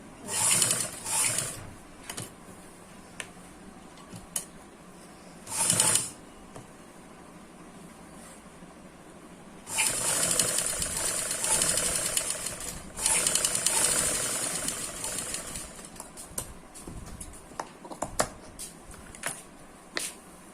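A sewing machine stitches a front neckline in several short bursts of rapid mechanical whirring, separated by quiet pauses, with longer runs in the second half.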